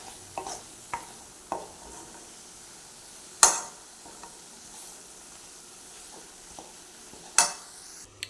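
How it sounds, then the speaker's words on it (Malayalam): Vegetables sauté in a pan for a fish roast, a low continuous sizzle with scattered clicks of a spoon or spatula and two sharp louder clanks against the pan. "വെജിറ്റബിൾസ് ഒന്ന് വഴന്ന് വരുമ്പോഴത്തേക്കും നമുക്ക് വെയിറ്റ് ചെയ്യാം."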